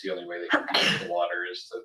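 During a board meeting, someone sneezes once, a brief burst cutting into a man's ongoing speech.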